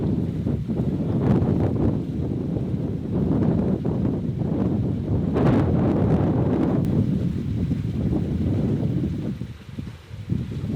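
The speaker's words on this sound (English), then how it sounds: "I'm gonna wait for the wind to die down again" Steady wind buffets a camera microphone outdoors, a loud continuous rumbling roar with gusty swells that eases briefly near the end.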